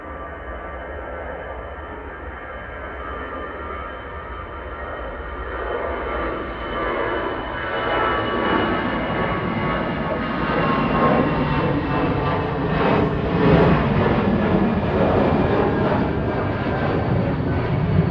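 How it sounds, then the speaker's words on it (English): An EasyJet Airbus A320 Classic rolls for takeoff from Manchester Airport bound for Belfast, its engine roar building steadily from a moderate rumble to a loud, sustained broadband blast over about eighteen seconds, heard from a distance outdoors. "EasyJet to Belfast on the roll."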